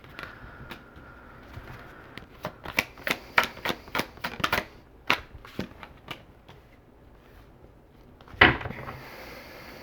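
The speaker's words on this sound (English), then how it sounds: "Get 2 more cards out here." Tarot cards are drawn from a deck and laid down, heard as a quick series of crisp, close card snaps and slaps, followed by a louder single flick after a short pause.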